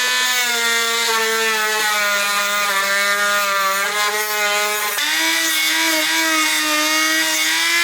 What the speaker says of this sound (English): just using me Dremel with a wire wheel on it